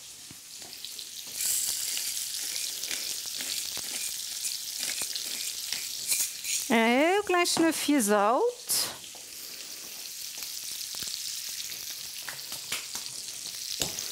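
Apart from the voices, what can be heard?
shrimp frying in a pan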